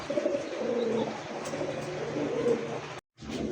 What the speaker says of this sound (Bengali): দেখতে পাচ্ছেন শ্যাডেল গোল্লা একটা কবুতর